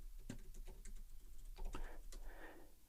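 Quiet clicking keystrokes on a Mac computer keyboard, a few quick irregular taps followed by a short burst of faster typing, close and soft.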